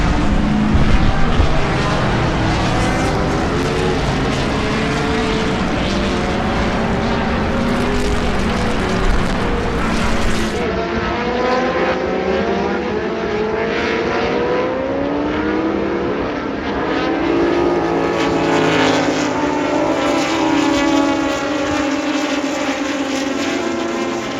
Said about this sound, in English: It's one of my absolute favourites historic touring cars.